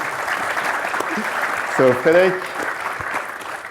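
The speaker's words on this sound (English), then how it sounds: "I feel bad not to leave you a round of applause." An audience at a panel discussion claps steadily throughout, a dense wash of applause, while a voice speaks briefly partway through.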